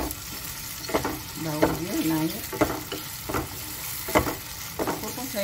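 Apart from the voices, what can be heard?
frying lemongrass and pandan leaves in a pan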